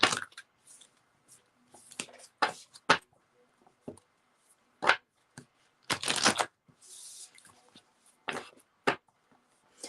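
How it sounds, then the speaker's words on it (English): Playing cards shuffled in quick bursts, a series of crisp riffling rustles with short gaps between them, fairly close and with no talking over them. "And I am shuffling for Debbie."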